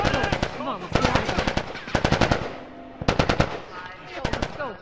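Rapid automatic gunfire bursts in The Last of Us, loud and close, in several volleys separated by short gaps, with shouted voices over the shooting.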